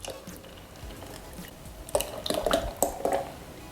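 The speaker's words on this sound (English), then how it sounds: "I'm gonna go in with a can of coconut milk." A can of coconut milk is poured into a pot of Jamaican rice and peas. Soft, thick liquid splashes and glugs come in several louder bursts after a quieter start.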